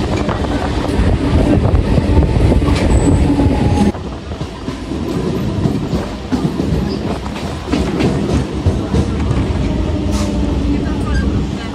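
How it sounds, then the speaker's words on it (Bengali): A Bengali commuter train pulls into Haridebpur station, a loud steady rumble with wheel rattle heard from inside the carriage and a shift in tone partway through, with voices in the background. "এখন আমাদের ট্রেন ঢুকে গেছে হরিদেবপুর স্টেশনে"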